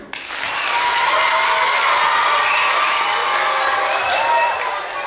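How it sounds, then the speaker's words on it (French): An audience applauds loudly and steadily, with some cheering and voices mixed into the dense clapping, which fades slightly near the end. "Vous pouvez l'applaudir."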